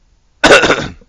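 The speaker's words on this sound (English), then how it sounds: "That was a cough." A single sharp, loud cough close to the microphone, bursting after a moment of silence and trailing off quickly.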